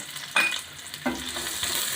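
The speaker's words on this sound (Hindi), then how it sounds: "ये 2 मीडियम साइज़ के प्याज कटे हुए मैं इसमें डालूंगी।" Two medium chopped onions dropped into about half a cup of hot oil on a lit flame set off a sudden sizzle, followed by a second burst and a continuing low crackle; no talking.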